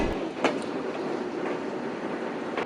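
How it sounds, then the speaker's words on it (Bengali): The Intercity Rupsha Express, travelling from Khulna toward Natore, rolls along with a steady rumble and faint rhythmic wheel clatter heard from inside, a couple of brief knocks standing out. "ট্রেনের এই ঠক ঠক আওয়াজটা বেশ চমৎকার লাগে"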